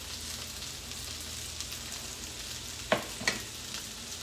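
Sardines frying in a pan, a soft continuous sizzle with a couple of sharp louder pops and clicks near the end.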